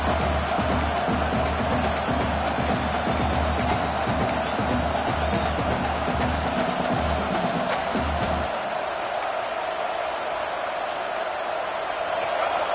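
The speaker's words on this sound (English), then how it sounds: "And the crowd coming to life here, trying to help this defense down in the red zone." Stadium crowd at an American football game roars and cheers steadily as the defense holds in the red zone, a broad sustained wash loud under commentator talk, thinning somewhat near the end.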